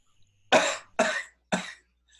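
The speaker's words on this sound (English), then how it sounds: "That sounds like a dry cough." Three dry coughs come in a quick, evenly spaced series, loud and close, each a short harsh burst with silence between.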